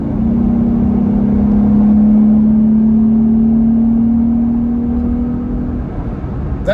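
A Jeep Gladiator accelerates hard from 55 to 75 mph, a loud steady engine drone holding a sustained pitch inside the cabin over road and wind noise, easing off near the end.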